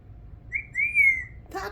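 A pet parrot gives a clear, rising whistle lasting under a second, close and fairly loud, followed by a short burst of other noise.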